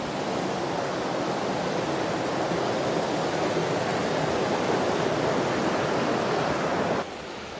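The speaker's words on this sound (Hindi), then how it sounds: "कितना सुंदर वाटरफॉल का पानी आने लगा देखो।" Dudhsagar waterfall in Goa, water rushing in a loud, steady broadband roar that holds constant and drops slightly near the end.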